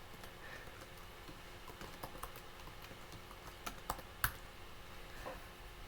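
Soft, scattered keystrokes on a computer keyboard as a formula is entered, faint and sparse clicks over a low steady room hum, with a couple of slightly sharper taps near the end.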